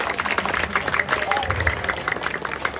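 An audience claps in a dense burst of applause at a Balinese temple performance at Pura Dalem Tengkulak, with an amplified voice talking over the crowd throughout.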